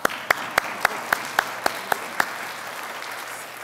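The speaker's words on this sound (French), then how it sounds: "On peut les applaudir." Slow, evenly spaced claps ring out, about nine sharp strikes, at a World Day of the Sick church service. They come over a faint hum, then stop.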